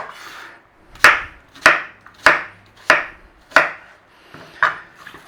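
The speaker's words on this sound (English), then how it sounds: "Onion, and we want some slices of onion." A knife slicing an onion on a board makes six crisp, evenly spaced chops, each a sharp close knock with a short tail and near-silence between.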